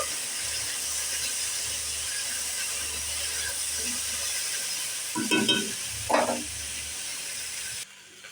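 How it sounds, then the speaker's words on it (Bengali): Mixed vegetables for a home-style mixed vegetable curry fry lightly in a pan with a steady, continuous sizzle and hiss, a couple of louder stirring scrapes near the end before it cuts off; no one speaks. "সমস্ত সবজি হালকা করে ভেজে নিলাম"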